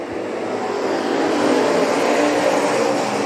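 IMCA stock cars roar off the green flag at a race start on a paved speedway, a dense, loud wall of engine noise holding steady and swelling slightly as the pack accelerates together.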